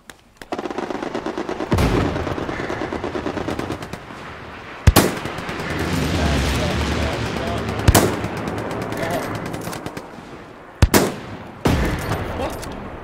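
Rifle fire in the World War II shooter Hell Let Loose: gunshots ring out in bursts, with sharp loud cracks standing out over near-continuous distant firing and battlefield noise, and a voice talks faintly.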